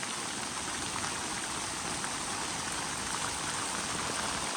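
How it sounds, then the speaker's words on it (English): Heavy rain pours steadily onto a house and gutters fitted with guards, a dense, continuous hiss close by with no pauses and no other sounds. "you can hear the rain, you can see the rain, and it's really streaming down here"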